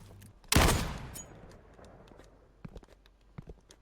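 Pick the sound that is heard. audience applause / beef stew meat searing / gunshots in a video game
gunshots in a video game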